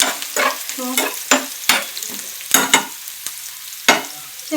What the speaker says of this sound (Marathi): छान असं परतून घ्यायचं. तेल चांगलं टाकलं त्यामुळे चांगलं लगेच परतलं जाईल.